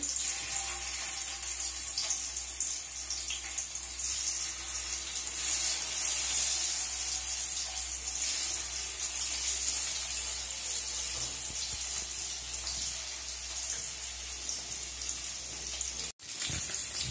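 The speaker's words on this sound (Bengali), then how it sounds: "তেলটা গরম হয়ে গেছে আমার, এবার আমি পনির ভেজে নেব।" Paneer frying in hot oil gives a steady, dense sizzle that holds evenly for the whole stretch, broken only by one brief sharp click near the end.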